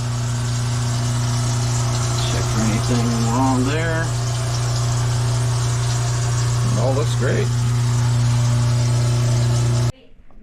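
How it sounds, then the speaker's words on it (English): A kitchen garbage disposal running with water flowing, a loud steady motor hum with strong low tones that continues under a man's speech and cuts off abruptly near the end. "now we can run the disposal while we run the water"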